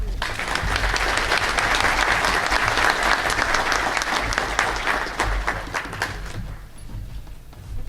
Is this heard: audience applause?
yes